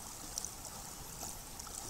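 Water boiling on a camping stove during a wilderness canoe trip makes a continuous soft hiss with faint bubbling, steady and low in level, with no voices over it.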